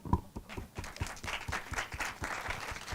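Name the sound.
audience applause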